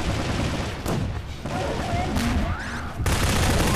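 Rapid gunfire bursts in the shooter game Half-Life 2: Episode Two, co-op play, with loud overlapping shots and booms arriving in several clusters amid game noise and players talking.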